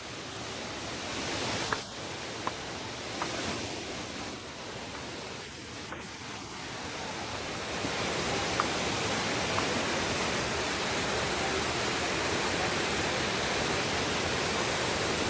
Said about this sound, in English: The cascading water creates a natural symphony that just draws you in, as the soothing sounds and rhythm of the water make you feel blessed.